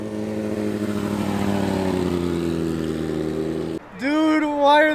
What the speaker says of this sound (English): So this Corvette's leaving.